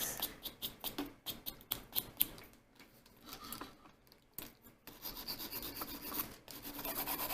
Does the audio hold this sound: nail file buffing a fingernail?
yes